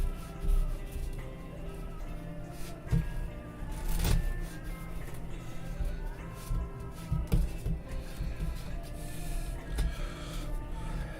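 A deck of playing cards being shuffled during a magic performance, giving soft repeated riffling and flicking rustles at moderate level, with occasional quiet breathing nearby.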